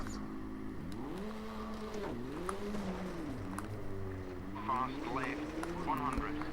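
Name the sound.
rally car engine in video game Richard Burns Rally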